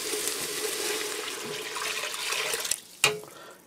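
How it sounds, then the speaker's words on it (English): Water is poured steadily into a pot of browned beef cubes, a continuous close splashing hiss for nearly three seconds that stops abruptly, followed by one short clink. "I'm going to add in 3 cups of water."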